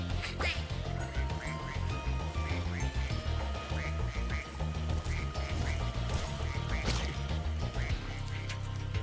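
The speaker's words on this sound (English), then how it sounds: "Let's just shoot a duck down there" Repeated duck quacks from Spyro 2: Ripto's Rage! Reignited after a duck is shot, sounding over busy game music and effects, several quacks spread through the stretch.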